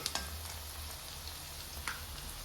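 Lamb saç kavurma fries with butter on a saç pan, giving a faint, steady, hissing sizzle with a low hum beneath and a couple of small clicks.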